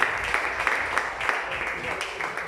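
A church congregation applauds together, steady dense clapping with a few louder bursts rising and falling throughout.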